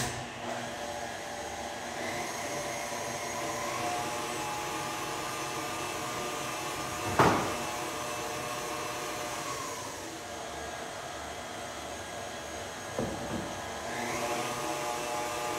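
An electric mixer beating cake batter: a continuous, fairly loud motor whine running the whole time, with two brief knocks or bumps along the way and no talking.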